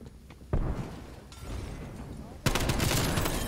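Shotgun blasts in a video game: a sharp loud shot, then a second heavier blast with sustained noisy rumble, close and punchy amid game sounds.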